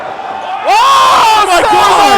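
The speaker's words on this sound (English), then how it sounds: "The crowd wants more." A wrestling crowd at Montreal Mayhem 2017, a Torture Chamber Pro Wrestling event, suddenly erupts into loud cheering and yelling that stays at full volume, with a strong voice shouting over the roar.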